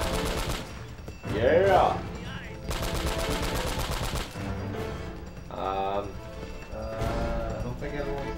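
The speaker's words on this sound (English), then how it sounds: "Minigun!" Rapid minigun fire in Uncharted: Drake's Fortune, a dense rattling burst over game music and other combat noise, with someone shouting over it.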